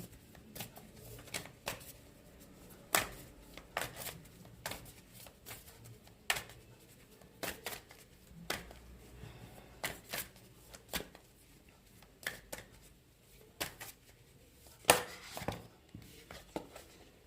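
Tarot-style cards are shuffled and drawn for a card reading, giving soft, quick riffling flicks and sharp snaps at an uneven pace, close and quiet over a faint room hum.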